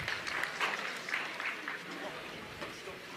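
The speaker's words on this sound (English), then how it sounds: "A little bit of an early celebration from the crowd." Crowd at a pickleball match, the Zimmer Biomet Masters, breaking into early applause, a steady patter of clapping with speech over it.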